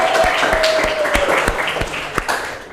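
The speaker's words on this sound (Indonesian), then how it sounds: "Oke, tepuk tangan dulu." A classroom of students claps together in an Indonesian mathematics lesson, a brisk steady patter of hands at close range with a faint high tone lingering behind it.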